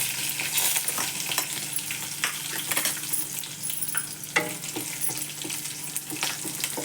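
Green chillies, peanuts and curry leaves crackle and hiss in hot oil for a puffed rice snack, a dense continuous sizzle with occasional stirring scrapes, close and steady throughout without speech.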